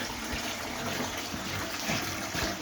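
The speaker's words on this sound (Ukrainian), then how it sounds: "а ми зараз наберемо відерочку водички і одне саме поставимо на плиту" Water pours steadily into a bucket from a tap, a continuous close gushing and splashing that holds the same level for the whole stretch.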